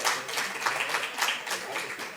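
An audience claps for a man at a scientific panel session, a moderate, steady patter of many hands lasting a couple of seconds, with no voices on top.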